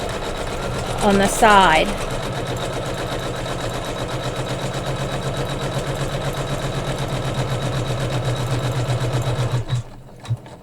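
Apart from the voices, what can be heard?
sewing machine stitching quilting on Kimberbell pillow border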